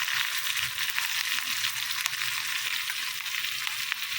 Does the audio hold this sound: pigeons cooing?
no